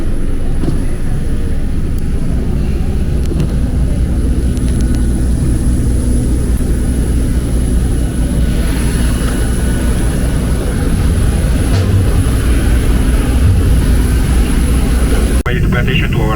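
Loud, unbroken roar of airplane engines heard from an airport shuttle bus carrying passengers out to the plane, a dense steady drone that holds for the full stretch before briefly dipping near the end.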